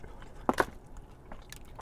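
Crunchy fried chicken wings are bitten close to the mic, giving two quick crisp crackles followed by faint soft chewing, quiet and brief.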